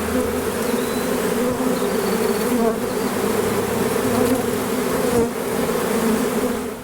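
A honey bee swarm buzzes loud and close, a dense, steady hum that holds without a break through the whole stretch, with no talk over it.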